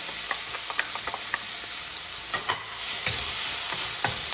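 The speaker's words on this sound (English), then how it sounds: "And into the wok, I'm going to add the onions, green onions, and then garlic" Onions, green onions and garlic hit smoking-hot oil in a wok and sizzle steadily, with a continuous frying hiss and occasional sharp pops and scraping stirs throughout.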